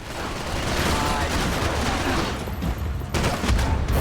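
Bursts of gunfire from a firearm in the action shooter Max Payne 3, rapid overlapping shots mixed with in-game background noise, loud and close throughout.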